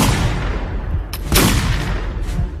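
Musket fire in a historical battle scene, booming shots and a sharp crack over a dense, rumbling background of distant gunfire, loud and continuous.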